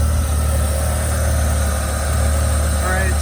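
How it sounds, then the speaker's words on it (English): A BMW E36 engine idling with a steady low rumble and faint mechanical hum, constant and close throughout, with no other sounds above it. "the engine is at idle now"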